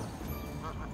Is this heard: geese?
yes